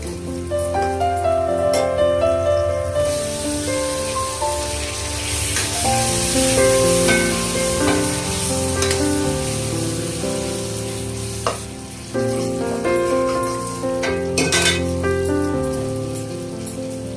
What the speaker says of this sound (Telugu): మిరియాల పొడి, టమోటాను కూడా వేసి పచ్చివాసన పోయి మెత్తబడేంత వరకు వేయించుకోవాలి